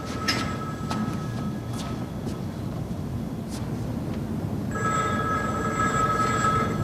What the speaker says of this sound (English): I could hear the phone ringing from the corridor.